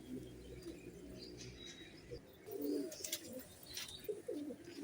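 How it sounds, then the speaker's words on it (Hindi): Pigeons circling over a rooftop give soft coos and chirps against faint outdoor background noise, with a few brief louder calls nearby. "ये देखें, कबूतर उड़ रहा है"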